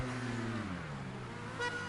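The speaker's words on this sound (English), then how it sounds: "You can hear that he's hit the high revs." A race car engine in the GTA Online video game holds high revs during a stunt race, a steady near drone with strong harmonic tones that dip slightly and then rise again.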